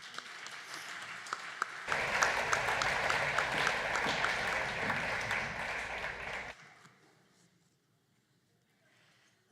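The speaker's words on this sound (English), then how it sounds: "Let's give a round of applause to these members." Applause for FFA members at a banquet: a room full of people claps steadily for about five seconds, fairly loud and dense, then the clapping stops abruptly and a quiet room follows.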